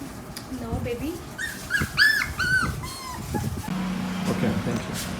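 A puppy whimpers in several short, high rising whines mid-clip, with small yips and soft dog sounds among them, while people talk nearby.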